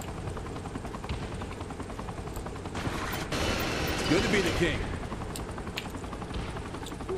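A helicopter in the Saints Row: The Third video game thrums steadily under game noise, with a burst of gunfire and a crash midway, while someone speaks briefly.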